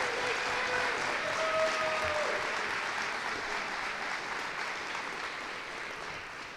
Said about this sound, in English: Let's give them a big round of applause for all that they do.